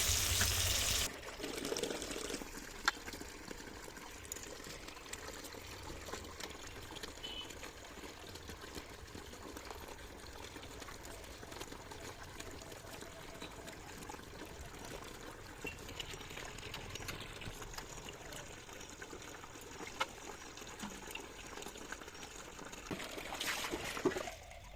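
Water runs and trickles softly as fruits are washed and Badshabhog rice is soaked in a kitchen, a faint steady flow with a few louder splashes at the start and end, and no talking.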